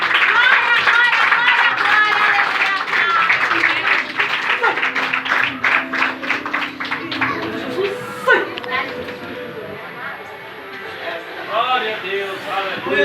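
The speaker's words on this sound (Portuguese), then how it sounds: "E as palmas são para Jesus" A church congregation claps in praise, rhythmic applause blended with voices and children's chatter, fading into talk and singing toward the end.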